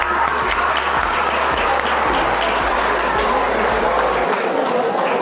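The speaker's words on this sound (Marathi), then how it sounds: "उलटे टाळ्या वाजवा" A large group of students at an NSS college camp claps in a loud, dense, sustained burst of applause, close and continuous, with crowd noise and some voices mixed in before it cuts off near the end.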